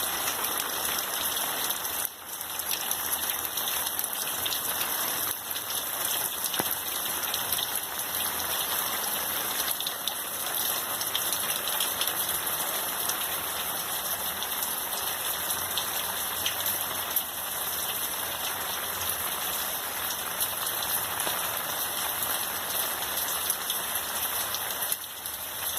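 Steady rain falls on potted garden plants, a dense, even hiss of drops spattering on leaves and surfaces that continues without a break for the whole stretch, with no voices over it.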